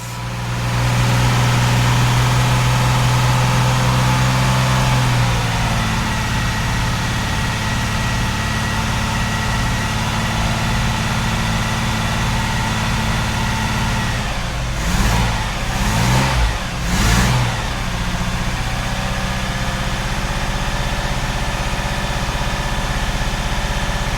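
Newly rebuilt car engine on its cam run-in, loud and close, holding a steady raised idle before a series of quick sharp revs blip in the middle, then settling back into an even drone.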